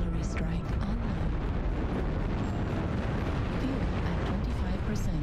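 Constant dense barrage of LRM missile explosions in Mechwarrior Online, a thick rumbling roar of overlapping blasts with no gaps, loud throughout.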